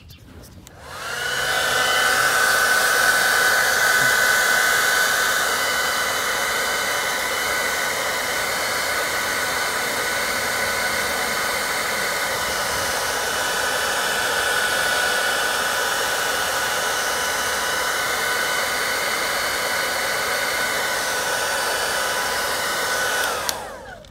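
Steady, loud blowing hiss of a heat gun warming the plastic of a V2 T10 diffuser on a 2018-2021 Honda Accord Sport, running unbroken and close for the whole stretch with no talk.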